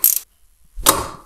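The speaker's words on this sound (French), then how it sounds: "je suis encore en train de visser" A ratchet turning bolts on a Seicento Abarth car, two sharp close bursts of metallic clicking separated by a short silence.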